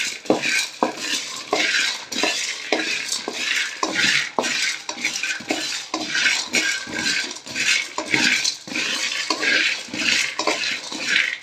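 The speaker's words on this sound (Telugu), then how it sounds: "ఇప్పుడు ఇందులోకి కొంచెం పచ్చనిపప్పు వేస్తున్నా ఇది కూడా కొంచెం వేయించుకున్నాం" Chana dal stirred and dry-roasted in a pan, a spoon scraping and clinking against the metal in steady, repeated strokes with a light sizzle underneath, close and fairly loud with no talking.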